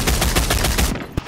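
Rapid gunfire in a video game: a dense, loud burst of fast repeated shots that cuts off abruptly, followed by a last single crack.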